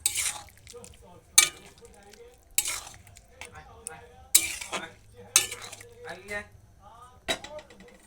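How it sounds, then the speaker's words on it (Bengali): Spoon or spatula stirs garam masala into an Indian potato and prawn curry in a pan with the gas switched off, giving scattered scrapes and sharp clinks against the metal under a faint voice. "এখন দিয়ে দেব আমি গরম মশলা। নেড়ে চেড়ে দেবো।"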